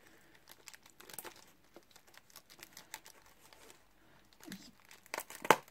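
Plastic or paper packaging crinkled during an art unboxing, soft scattered rustles and crackles that build to a louder crunching burst near the end, close and otherwise quiet.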